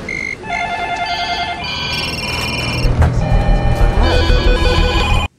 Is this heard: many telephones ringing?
yes